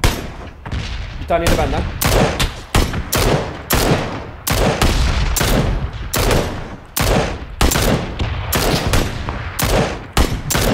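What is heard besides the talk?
gunfire in the video game PlayerUnknown's Battlegrounds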